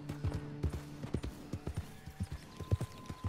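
Horse hooves clip-clop in the Red Dead Redemption 2 video game: a brisk, steady trot of sharp, close hoofbeats with a faint tonal game sound under them.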